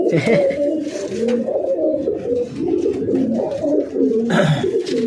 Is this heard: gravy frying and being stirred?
no